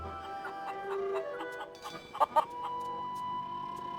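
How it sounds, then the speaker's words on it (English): A Plunder Island feral chicken in The Curse of Monkey Island clucks in a short run of squawky calls with two sharper peaks midway, over a steady tonal game background. "Plunder Island feral chicken, one of Plunder Island's most common fauna"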